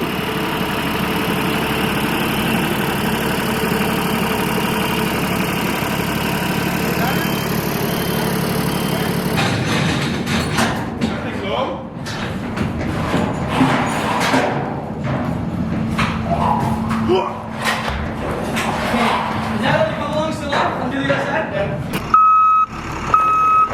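A truck idles with a low steady rumble under repeated reversing beeps, with clanks and knocks of unloading Japanese import cars from shipping containers later on.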